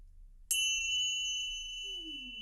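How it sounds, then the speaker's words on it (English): A small chime struck once to open a podcast conversation, ringing with a bright, clear tone that sustains and slowly fades over a couple of seconds, alone in a quiet room. "I would like to bring a little chime to tune all of us into this big space."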